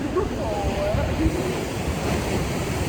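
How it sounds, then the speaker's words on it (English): Big ocean waves surge against a rocky outcrop in a constant loud, wind-buffeted roar of surf, with faint tonal sounds over the noise. "There's some big waves coming. Look out, here it comes."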